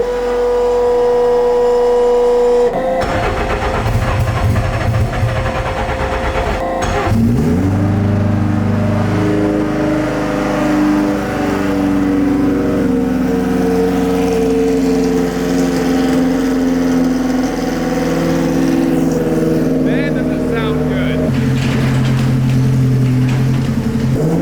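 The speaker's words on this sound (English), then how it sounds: "here's a little cold start for you boys" A McLaren 720S engine cold-starts after the ignition switch, catching with a loud bark and settling into a high, steady idle that holds close and prominent throughout.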